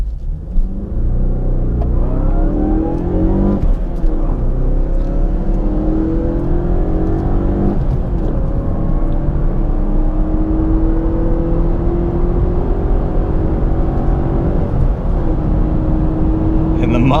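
A 2017/2018 Mazda 3 with a manual stick shift, traction control off, accelerates hard in a race, its engine note climbing steadily and loud from start to finish with rising harmonics through each gear.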